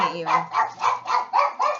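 A dog barks about six times in a steady rhythm, each bark loud and close, at the mailman.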